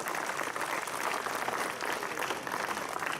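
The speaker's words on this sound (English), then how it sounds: "I request everybody to give a big round of applause to welcome our chief guest." An audience at a science and engineering fair inauguration claps in a steady, dense round of applause welcoming the chief guest, quiet and sustained.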